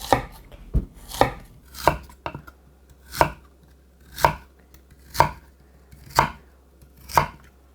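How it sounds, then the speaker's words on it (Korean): A knife chops through a peeled lotus root on a cutting board into thick slices, about ten crisp, evenly spaced thuds in a steady rhythm, close and clear. "껍질을 까서 약간 두툼하게 썰으세요"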